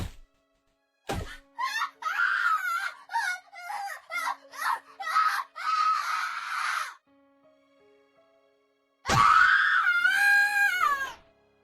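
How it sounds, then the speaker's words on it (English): A boy lets out a terrified, piercing scream in a video game, heard as a run of sharp shrieking bursts after a heavy thunk, followed by a pause and one long, rising final scream. "人間の声とは思えない凄まじい音波のような叫び声。"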